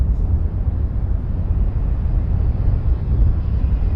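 A Boeing 727-200 airliner rolling down the runway on its takeoff run in Microsoft Flight Simulator, its jet engines giving a loud, steady, low roar that holds constant throughout with no talk over it.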